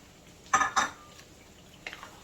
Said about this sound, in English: Now we mix everything together.